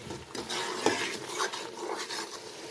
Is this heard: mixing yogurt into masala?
yes